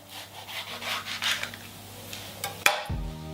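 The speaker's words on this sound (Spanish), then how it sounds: "ahora vamos a limpiar un pimiento verde, para lo cual vamos a cortarlo por aquí arriba" A knife slices open a green bell pepper on a kitchen board, giving a steady scraping, rasping cut close by, closed off by one sharp snap as the blade breaks through.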